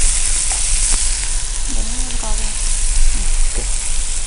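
Small chicken pieces fry in a pan with a loud, steady crackling sizzle, close up, while a voice briefly hums or speaks softly over it.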